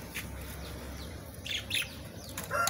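Pet parakeets chirp in short bright bursts near their large cage, several birds calling close by with brief flutters between calls.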